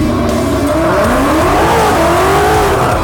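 A Ford Mustang S550 on wide aftermarket wheels accelerates hard around a racetrack, its engine note climbing and shifting steadily as it pulls through the gears, loud and close, with no talking.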